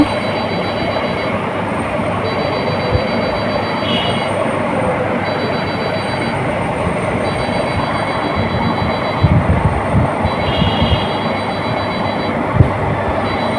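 A new sewing machine stitches pleats into pillow fabric, giving a close, steady mechanical whirring with repeated rhythmic runs and brief pauses.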